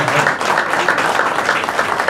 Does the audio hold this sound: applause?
yes